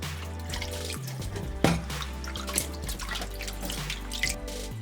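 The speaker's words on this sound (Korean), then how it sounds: "바로 찬물에 3번 씻어서 차게 식히고" Blanched broccoli is rinsed under cold running water, a soft, steady splash and trickle with small drips and clatters of handling.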